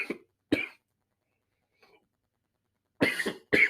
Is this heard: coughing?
yes